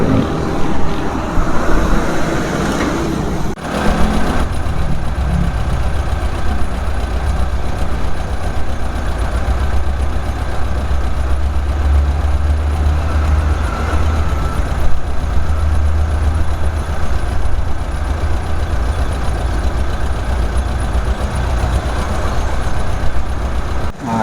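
A bulldozer engine rumbles loudly and continuously as it pushes earth at a roadside worksite in an Indonesian village, a deep steady drone with a brief dip early on and no speech.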